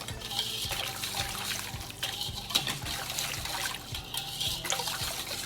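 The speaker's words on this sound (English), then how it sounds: "Now I'm just gonna pour it over the meat." Spiced marinade of garlic ginger paste, lemon juice, oil and food coloring pours over chicken, a continuous wet trickle with soft splashes and small knocks, close and moderately quiet.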